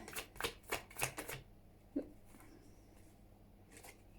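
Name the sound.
shuffling and pulling oracle cards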